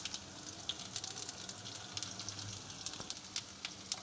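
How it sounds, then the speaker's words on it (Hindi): Chopped garlic sizzles in hot oil for a baghar tempering, a steady, fairly faint crackling hiss with small popping spatters throughout. "ये देखिए अब हम बघार इसका बना रहे हैं।"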